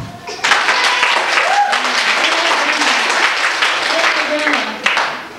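Schoolchildren clapping together in a classroom, a loud, dense burst of many small hands that holds steady for several seconds, with voices mixed in and brief vocal sounds rising above the clapping.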